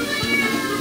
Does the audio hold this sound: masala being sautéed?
no